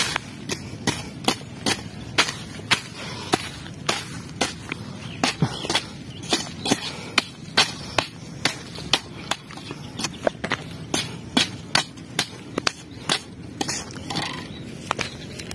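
Soil is chopped and weeded by hand with a hoe in a bean and chili pepper plot, giving a steady run of sharp, close thuds at roughly one-second intervals, loud and rhythmic against quiet outdoor background.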